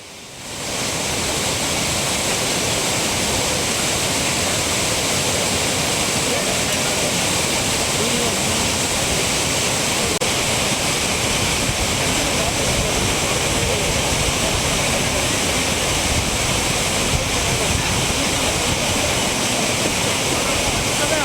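The flooded Courtallam waterfall in Tenkasi roars as a dense, unbroken wash of loud rushing water that fills the whole stretch without pause.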